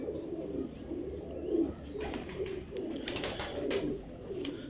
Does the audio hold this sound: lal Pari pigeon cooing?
yes